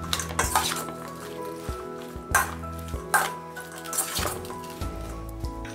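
Ginger garlic paste stirred in a frying pan, with repeated scraping and clinking of a utensil against metal over a faint sizzle, close and without talk.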